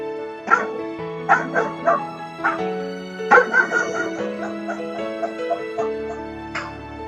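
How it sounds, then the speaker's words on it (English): A dog barks and yips repeatedly in quick bursts, loud and close, with whimpering tones in between and a steady hum in the background. "Tom would bark as loudly as he could."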